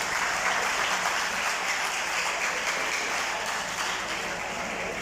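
An audience at a youth mentorship talk breaks into sustained applause, dense and fairly loud clapping that stays even for several seconds with no voices over it.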